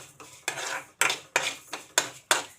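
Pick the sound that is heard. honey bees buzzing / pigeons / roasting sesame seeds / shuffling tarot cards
roasting sesame seeds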